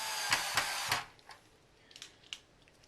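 A power screwdriver drives screws back into a Nintendo NES console during reassembly, three close buzzing bursts in quick succession, followed by faint clicks and taps of handling the plastic case.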